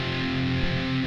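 Single sustained distorted electric guitar power chord, an extended F shape picked across four strings, ringing steadily for about a second with a thick, low, buzzing tone.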